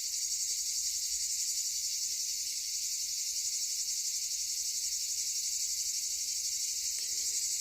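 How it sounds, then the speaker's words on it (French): Cicadas sing in a steady, loud, unbroken high-pitched drone on a hot summer day outdoors, with no other sounds or talk. "Je vous laisse écouter les cigales."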